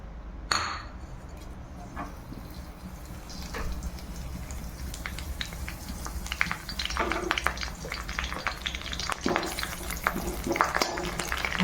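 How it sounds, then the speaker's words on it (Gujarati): Curry leaves dropped into hot oil in a home kitchen pan, giving a burst of sizzling and crackling that continues steadily with scattered clinks of a utensil against the pan, close and moderately loud, with no talking. "હવે આપણે એમાં મીઠો લીમડો ઉમેરશું."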